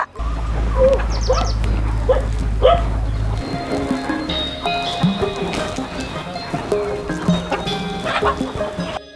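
Country chickens cluck and squawk nearby over a low engine hum, with a person calling to them and scattered clucks throughout.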